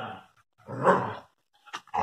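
Dogs playing give a short, rough growl in the middle, close and fairly loud, framed by brief snorts and scuffles with quiet gaps.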